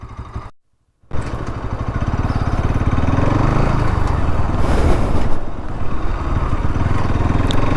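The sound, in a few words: 2025 Bajaj Pulsar NS 200 motorcycle engine while riding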